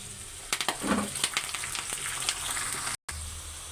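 Curry leaves hit hot tempering oil with onions and cumin for a ridge gourd curry, crackling in a quick burst of pops before settling into a steady close sizzle, with a brief dropout near the end.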